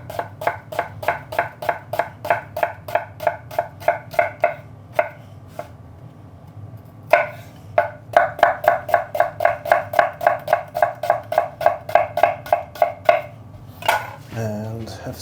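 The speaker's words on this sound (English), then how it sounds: "I'm going to chop my shallots" A knife chops shallots finely on a board in quick, steady rhythmic taps, close and crisp. The chopping breaks off briefly in the middle and then resumes, with faint clatter at the end.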